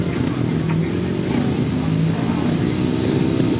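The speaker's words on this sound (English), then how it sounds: "So the revs rise then for race 29, they're under starter's orders." Grasstrack racing sidecar engines rev at the start line of a 2003 European semi-final, a loud continuous droning roar from several machines, close and steady throughout.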